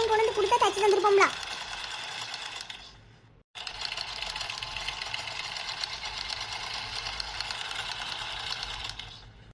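A sewing machine stitches school uniforms in a village tailoring setting, running in a long steady mechanical whir with a short break, after a brief louder clattering start.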